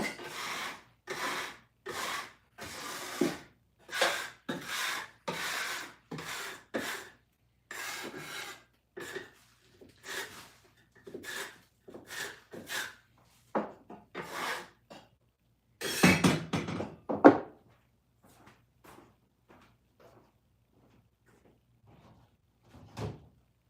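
A tool scrapes the inside of a clay pot in a pottery studio, making a series of close, rough rasping strokes in irregular bursts, then trailing off into sparse scrapes and quiet.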